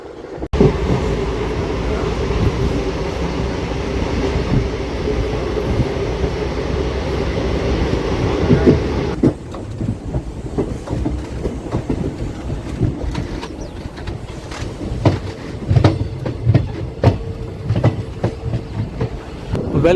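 A DEMU train on the Secunderabad to Siddipet line rumbles steadily with low wheel and engine noise, then shifts partway through to rattling, clacking carriage sounds with irregular knocks, continuous and fairly loud throughout.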